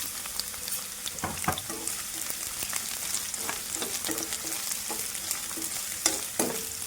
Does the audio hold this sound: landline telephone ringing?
no